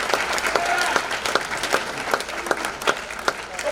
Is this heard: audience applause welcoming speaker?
yes